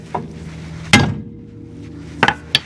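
A hammer strikes a steering knuckle on a 2008 Ford Ranger to break the taper: one loud, sharp metallic bang, followed by two lighter knocks close by.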